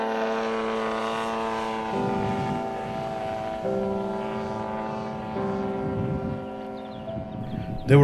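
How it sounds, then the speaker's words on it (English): Radio-controlled tow plane aerotowing a glider, a steady buzzing propeller engine drone with slowly shifting pitch, held at moderate distance throughout. "purpose-made tow planes were powerful enough to tow any radio-controlled glider you could think of"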